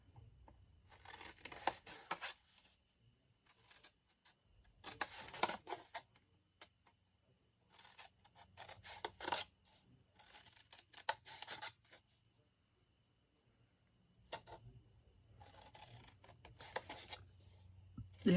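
Scissors cutting paper pieces for Easter egg treat holders: short bursts of close, crisp snipping and rustling separated by quiet pauses, repeating through the clip.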